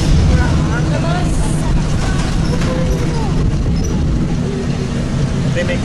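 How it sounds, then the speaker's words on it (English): Interior of a city bus in Bangkok, seated at the back, with a steady loud engine drone and road rumble running throughout while people talk over it. "Yep, we're at the back of the bus."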